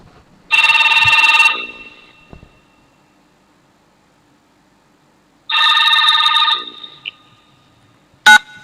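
A telephone rings with an electronic ringtone in two loud bursts about five seconds apart, each lasting about a second, followed by a brief short chirp near the end, with near silence in between.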